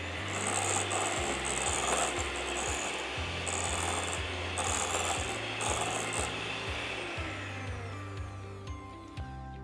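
An electric mixer creams butter and sugar for a vanilla cake batter with a steady mechanical whir, a low rhythmic clicking and scraping, and bursts of higher grinding, close and continuous with no talking.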